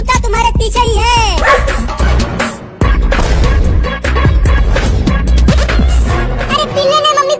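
A dog barks repeatedly, loud and close, with bursts of yapping mixed with people talking throughout, including a voice.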